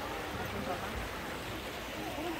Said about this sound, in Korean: 여기는 물소리.